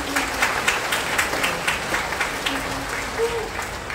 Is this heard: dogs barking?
no